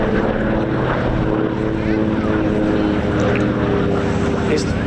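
Deep, rolling rumble of vintage piston aircraft engines at an English airshow, steady and continuous with a rich low drone, no speech over it.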